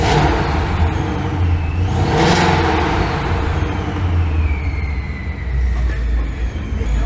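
A 700 hp Mustang GT engine warming up, a steady loud rumble with a brief rise in revs near the middle, close to the car.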